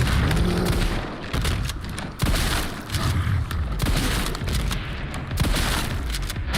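Shotgun blasts in a video game, loud close heavy booms repeating in quick succession over a dense, noisy firefight with little pause between shots.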